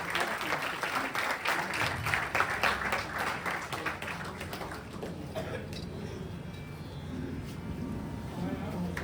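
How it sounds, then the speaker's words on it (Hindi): Audience applause at a Hindi-language gathering celebrating a birthday, a sustained mid-level clapping from a crowd that continues evenly throughout with some faint voices mixed in. "जोरदार तालियों के साथ"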